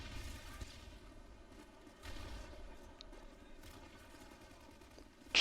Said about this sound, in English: that dude was popping off with the P90